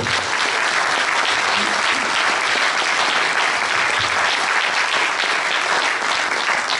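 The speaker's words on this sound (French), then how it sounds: "on l'applaudit bien fort" Audience at a political meeting in Beauvais applauding a labour activist, loud sustained applause from a large crowd, dense and unbroken throughout, with faint voices mixed in.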